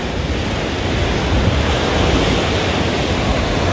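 Constant broadband wash of ocean surf on the Philippine Sea shore at Sugar Beach, Sipalay, loud and unbroken with wind rumble mixed in, no voices.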